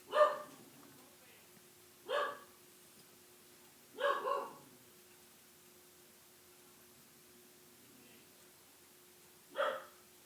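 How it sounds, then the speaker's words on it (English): A single dog barks four times at irregular intervals, faint and somewhat distant indoors, over a low steady background hum. "if you guys hear it's my dog"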